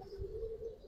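A giribaz pigeon in a loft gives one brief, steady low coo, close and fairly quiet.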